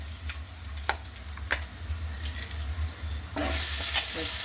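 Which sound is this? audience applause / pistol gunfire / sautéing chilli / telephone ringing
sautéing chilli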